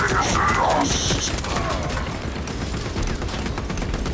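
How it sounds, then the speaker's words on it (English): A frag grenade thrown and exploding in Space Marine 2, heard as a dense, continuous roar of battle noise and blasts with no clear gap between them. "Throwing frag grenade."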